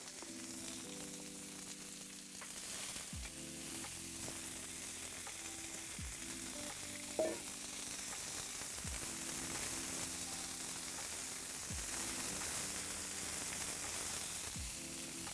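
Onions and peppers fry in oil over an open fire, with a steady close sizzle and crackle that keeps going throughout, a few brief knocks and scrapes sounding over it.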